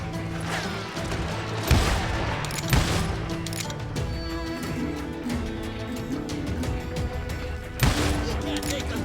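Gunfire in the Call of Juarez video game, several sharp shots and crashes scattered over a continuous mix of game music and voices.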